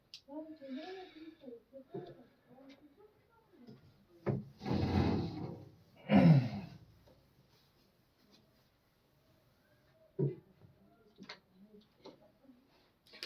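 A board is wiped clean during a maths lesson on triangles, with scratchy rubbing strokes in short bursts, a longer scrub and a few brief swipes, heard between stretches of a man's teaching speech.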